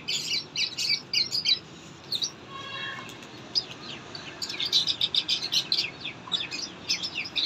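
Pigeons flying and calling outdoors: repeated bright chirps and squawky calls in clustered bursts over a steady background hiss, moderately close, with no talk.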